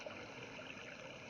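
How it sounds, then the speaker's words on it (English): Flowing water slowed to half speed, a faint, even rushing wash with a smeared, lowered texture and no distinct splashes. "Notice that the sound of the water is slowed down"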